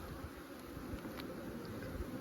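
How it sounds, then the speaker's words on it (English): A dense swarm of honeybees hums steadily around an opened hive, a continuous soft buzzing close by. "A bunch of bees on the ground."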